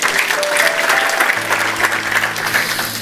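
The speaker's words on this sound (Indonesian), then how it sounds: "Kita beri tepuk tangan." A congregation at a Tuesday Bible service breaks into steady applause, dense clapping that carries evenly through the room for about three seconds.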